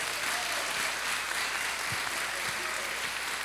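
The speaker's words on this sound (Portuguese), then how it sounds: "Vamos aplaudir Jesus." A church congregation applauding at a nineteenth-anniversary service, steady dense clapping filling the room at an even level throughout, with no voices standing out above it.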